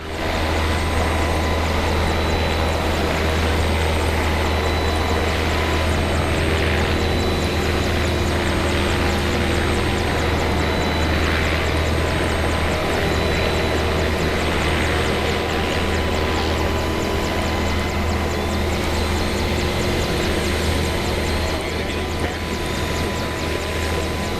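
Helicopter rotor and engine from a military video game, a steady, dense drone with a low hum running unbroken throughout, with no talking.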